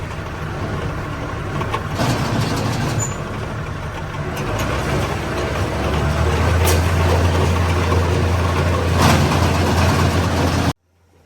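Tractor-driven super slicer works through a hay bale on a farm, a loud, close mechanical rumble that deepens and strengthens partway through as the machine loads up, then cuts off abruptly near the end.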